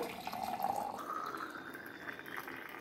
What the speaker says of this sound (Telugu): Hot water పోస్తున్నా.